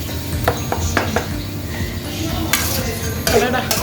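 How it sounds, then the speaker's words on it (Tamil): Cooked mutton stirred into a hot pan, with repeated scraping and clattering spoon strokes over a low sizzle, busy and close throughout. "சேர்த்து இதையும் நல்லா இதோட சேர்த்து மிக்ஸ் பண்ணிடணும்."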